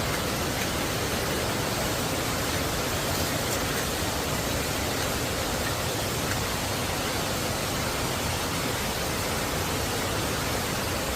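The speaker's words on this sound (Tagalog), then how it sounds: "So may 3 waterfalls dito. Ayun yung waterfalls na isa pa." Waterfall near Lucban, Quezon pours in a steady, loud broadband rush that fills every moment evenly, with no pauses and no audible voices.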